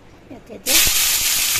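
Spiny gourd, salted and rubbed with turmeric, drops into hot oil in a kadai and sets off a sudden loud, steady sizzle that keeps going after a short stretch of speech.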